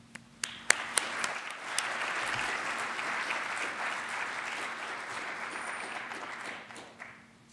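An audience at an engineering symposium applauds to welcome a professor, starting with a few scattered claps and swelling into steady full applause before fading away.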